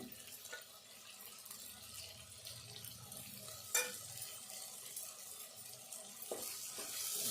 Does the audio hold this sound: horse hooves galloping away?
no